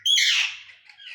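A pet myna bird gives a single loud, bright call that sweeps down and then trails off, followed by a softer chirp, heard up close with no talking.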